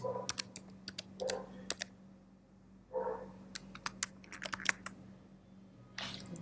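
A password typed on a computer keyboard: close, crisp keystrokes in quick bursts separated by short pauses, with a few louder key presses; no talking.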